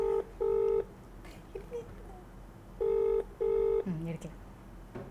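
A phone call rings unanswered, with a steady electronic ringback tone in paired bursts. Someone speaks briefly between the two pairs.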